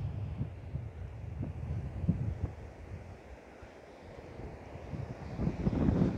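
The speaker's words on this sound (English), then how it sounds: "There's a bit of wind there, as you can probably see." Wind buffets the microphone at a coastal lookout with surf below, a low continuous rumble that swells and eases and grows stronger toward the end, with no voices.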